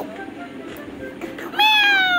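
A person's voice imitates a cat's meow, a short rising-then-falling mew at the end that follows some brief indistinct talking.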